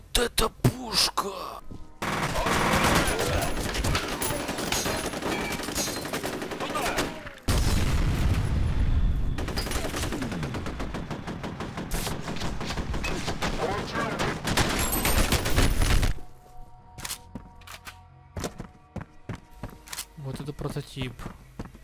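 Bursts of rapid, heavy gunfire from the video game F.E.A.R. with a long sustained volley, then sparser single shots and mechanical clicks toward the end.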